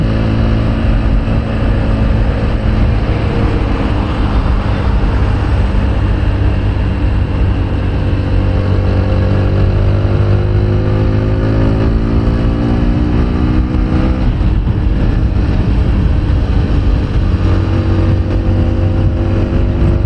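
A TVS Apache 160 4V motorcycle with fuel injection and ABS revs and pulls through its gears on a test ride, its engine loud and close throughout, the pitch rising and falling with each acceleration and shift, with no talk.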